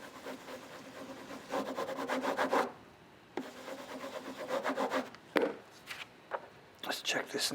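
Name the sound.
rubbing paper to emboss a woodblock print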